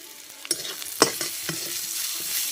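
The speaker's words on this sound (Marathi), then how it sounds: "आणि जरा परतून घेते." A vegetable with turmeric is sautéed and stirred in a pan on a village wood-fired stove. A spatula clinks against the pan several times at uneven intervals over a steady, close sizzle.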